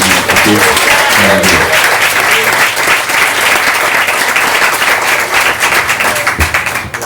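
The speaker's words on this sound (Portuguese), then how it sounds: "Dá um aplauso ao Espírito Santo." A church congregation bursts into loud, sustained applause at a night worship service, dense clapping filling the room from start to finish, with a few voices calling out over it.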